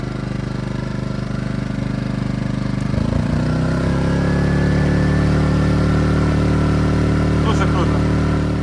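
A Konner&Sohnen KS 3000i S inverter generator runs steadily and loudly close by, its engine note shifting slightly partway through, a continuous hum with no talk.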